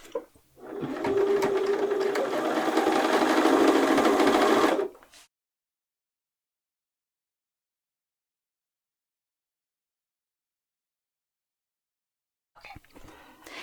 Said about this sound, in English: We finished sewing the hem